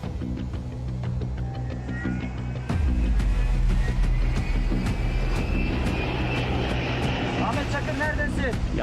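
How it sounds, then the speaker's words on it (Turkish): A propeller firefighting airplane roars overhead near a forest fire, its engine drone swelling loudly midway and lingering as it passes. "Büyük ihtimal uçaklar müdahale edecek. Az önce bir tanesi geçti."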